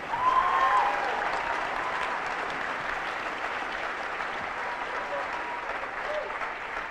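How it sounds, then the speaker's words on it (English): An audience applauds award winners at a senior awards night, a steady wash of many hands clapping for several seconds, fairly loud and even, with some voices mixed in. "we give them one more round of applause"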